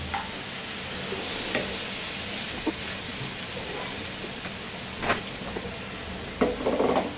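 Poa fish, green chillies and sliced eggplant sizzling in a pan, a continuous close hiss with occasional utensil scrapes and a cluster of clatter near the end.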